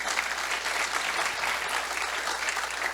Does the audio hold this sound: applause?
yes